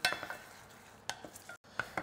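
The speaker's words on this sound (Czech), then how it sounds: "Takže cibulka se nám tady smaží." Onion frying in a pan, stirred: light scraping and clinking strokes of a utensil in the pan come in short bursts over a faint, soft sizzle, with brief pauses between stirs.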